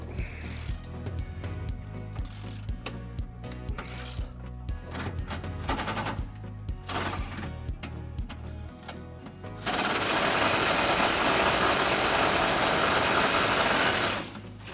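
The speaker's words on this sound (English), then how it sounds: "Now we're going to loosen those up using a 21mm socket." A ratchet with a 21mm socket loosens bumper support bolts on a 2015-2022 GMC Canyon, clicking in quick irregular runs, followed by a long loud steady hiss-like mechanical rush near the end.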